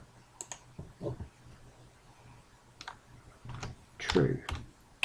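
Keys clicking on a computer keyboard as a short code line is typed into a Breakout game editor, coming in scattered bursts of taps with a louder cluster near the end, close and moderately loud.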